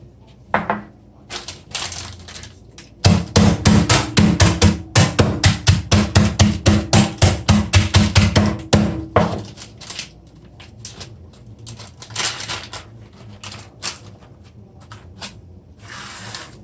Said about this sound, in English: So here I pound on this pimento seed.